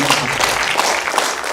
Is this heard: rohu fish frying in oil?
no